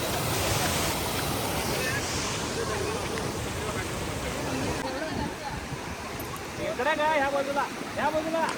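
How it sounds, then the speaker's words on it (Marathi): A monsoon waterfall in the Kokan region rushes as a constant broad roar near the listener, mixed with wind buffeting, while voices talk faintly in the background. "हा वॉटरफॉल आहे इथे."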